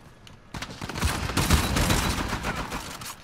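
Bursts of rapid automatic fire from an M4 Custom rifle in the video game Uncharted 4 rattle out loud and close, in dense overlapping volleys that continue to the end.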